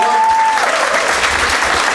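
Wedding guests applaud during a best man's speech: a dense burst of close, loud clapping from a crowd that carries on evenly throughout.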